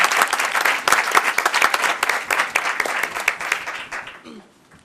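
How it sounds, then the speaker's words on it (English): Attendees at a township council meeting break into applause, a dense, lively clatter of many hands that holds strong for several seconds before thinning and fading out near the end, with a faint voice surfacing as it dies away. "Let's give them all a round of applause."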